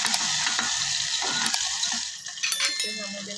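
Onion, curry leaves and tomato sautéing in a pan give a steady, bright sizzle with a few clinks of a utensil stirring, continuous and close throughout.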